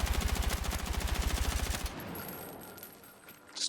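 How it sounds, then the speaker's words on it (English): A rifle fires full auto at long range on the firing range in Battlefield 6: a rapid, steady string of loud shots lasting nearly two seconds, then clattering, fading echoes. "I am going to shoot at this farthest distance full auto"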